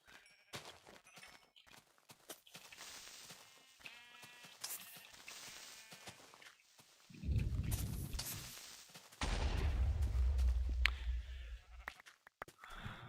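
In Minecraft, two deep, rumbling explosion blasts, each lasting a couple of seconds, arrive in the latter half after scattered sheep bleats and clicky game noises, all loud and close with no talking.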